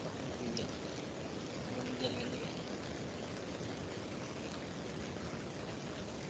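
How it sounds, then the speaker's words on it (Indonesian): Heavy rain falls steadily with a dense, continuous hiss and patter that does not change over several seconds, and faint speech is mixed in underneath. "kayaknya di situ sedang hujan deras ya"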